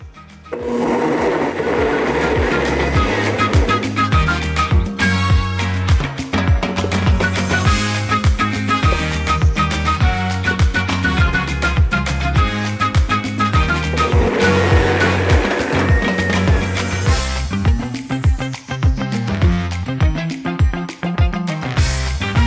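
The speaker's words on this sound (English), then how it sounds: "and then we'll just start the blender" A loud blender motor runs steadily throughout, whirring and grinding through a chocolate mousse mixture with water, its pitch rising and falling as it works.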